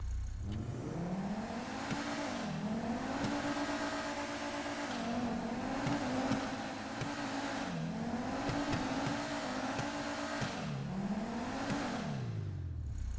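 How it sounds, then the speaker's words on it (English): A Maibatsu Penumbra car engine in GTA Online revs repeatedly, climbing through gears and dropping back in a cycling pattern, steady and close, with faint tire noise underneath. "Honestly, the car does not sound very special at all"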